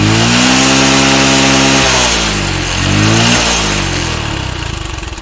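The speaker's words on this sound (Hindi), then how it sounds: "अभी देखेंगे मैं पूरा इसका रेस दे रहा हूँ फिर भी बंद नहीं हो रहा है।" A TVS XL100 moped engine revs hard at full throttle, its loud buzzing note rising and falling through two surges before settling into a rougher, uneven run near the end.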